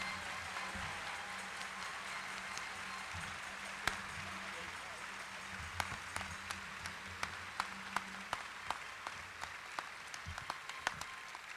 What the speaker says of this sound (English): let's all stand to our feet and give a round of applause to Superintendent Dr.